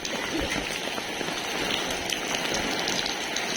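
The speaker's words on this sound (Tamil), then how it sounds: "மழையை காட்ட உங்களுக்காக வந்திருக்கேன்" Rain in Chennai patters steadily on nearby surfaces, a dense close hiss with scattered drips throughout.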